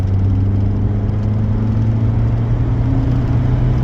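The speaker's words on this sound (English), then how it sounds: "you could just about hear the supercharger there" An old automatic Mercedes with a supercharged engine pulls hard with a steady low drone and a faint rising supercharger whine layered on top, continuous and fairly loud inside the cabin.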